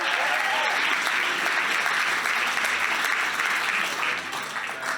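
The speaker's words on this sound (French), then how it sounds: "Allez, on peut encore les applaudir" Sustained audience applause fills a hall at an awards nomination night, steady, dense clapping from a large crowd that holds strong for the whole stretch before easing slightly at the end.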